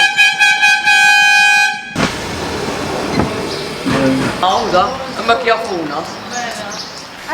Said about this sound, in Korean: 빵 배달차가 울리는 경적 소리에